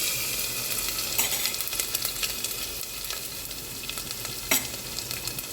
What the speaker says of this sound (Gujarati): પછી જે આપણે લસણ અને જીરું વાટીને રાખ્યા છે એ એડ કરી દઈશું